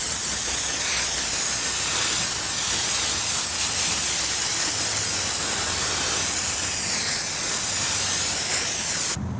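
Aerosol spray hisses steadily while cleaning the outer brake pad surface on a 2004-2008 Ford F-150 rear brake, one loud continuous burst close by with no pause until it cuts off at the end.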